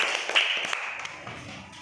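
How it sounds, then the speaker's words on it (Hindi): Children in a classroom clap together in a short, brisk burst of quick slaps that fade into scattered taps. "तालियां बजाओ, सही है।"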